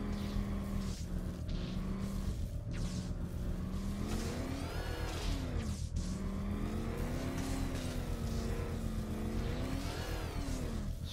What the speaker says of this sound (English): Gently increase the engine revs to to the red line level to power up the antenna